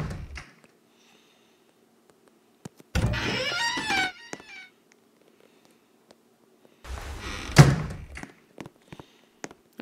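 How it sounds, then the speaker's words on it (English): Closet doors opening in the horror video game It Lurks, two separate bursts of creaking, thudding door movement with sharp knocks between them, close and loud against near silence. "Right after I open these closet doors."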